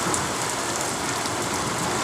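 Steady monsoon rain pours down outside, heard from indoors through a room window on a dark afternoon, a dense continuous hiss of drops close and loud with no voices.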